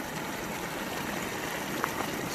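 Water spatters and rushes from a few spots in the middle of a placer mining stream setup, a steady, fairly soft wash of splashing with no voices.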